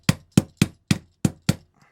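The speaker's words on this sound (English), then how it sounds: "I'm gonna give it a little whack with the hammer just to seat it" A hammer taps a part into a 34-year-old Ruger 10/22 rifle: six sharp, evenly spaced knocks, close and clear, followed by one faint last tap.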